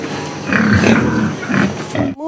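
A pig grunts in two long, rough, loud bursts close by, followed by a brief tonal squeal at the end, with no talking over it.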